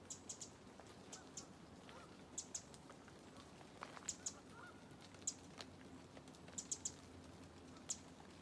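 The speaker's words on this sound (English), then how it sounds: "You can hear the geese in the background." Geese call in the distance on a rainy outdoor trail, scattered faint honks and short cries over a steady patter of falling raindrops.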